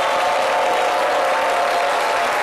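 Dense, steady applause from a studio audience on a French-language television talk show fills the whole stretch loudly and evenly, with no pauses.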